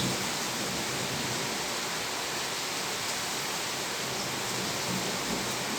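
A steady downpour of heavy rain in Ankara hisses continuously, loud and uniform throughout, with nothing else standing out.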